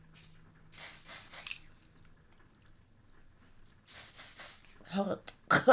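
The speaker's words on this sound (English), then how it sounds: "I think I'm better off just spraying it on my face." Two bursts of fine, hissing makeup setting spray onto a face, each lasting over a second, separated by a quiet pause, followed by a short breathy gasp.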